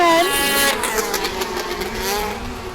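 Formula 500 vintage sleds racing a five-lap heat on an ice oval, high-pitched engines revving and whining past, loud at first then sweeping and fading as they pass, with a faint voice underneath.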